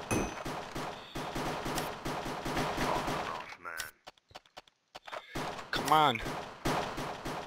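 Gun bursts from a Minecraft CSGO mini game, a dense, loud run of rapid shots, a brief gap, then more fire with a sliding tone, while someone talks over it.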